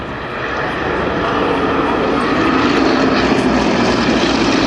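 Propeller aircraft flying across the far side of an airfield at an airshow, a loud steady engine drone that builds slightly and holds, with faint commentary voice underneath.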